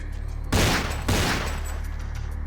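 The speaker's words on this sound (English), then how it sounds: "He outright shot me in the face." A policeman fires at close range in Vampire: The Masquerade – Bloodlines, giving two loud, booming shots about half a second apart, each trailing into a long rumble.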